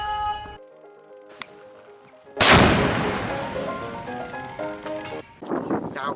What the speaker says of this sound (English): And when the target was in range, the order was given to fire.